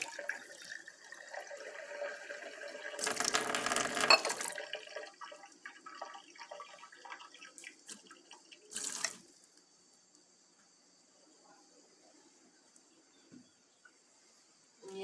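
Water running from a tap into a container being refilled with 100 ml of plain water, a loud rushing splash for a couple of seconds, then a shorter burst later, with scattered drips and faint handling noises in between.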